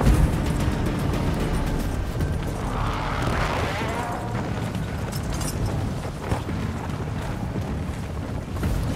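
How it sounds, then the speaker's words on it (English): Airstrike explosions in Call of Duty: Modern Warfare II, a continuous heavy rumbling roar of blasts with a swelling burst in the middle, loud and dense throughout. "Friendly airstrike in the AO."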